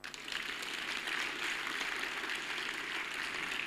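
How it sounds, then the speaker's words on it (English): A crowd applauding steadily, a dense wash of many hands clapping at a moderate distance, sustained without a break. "Now, another clap."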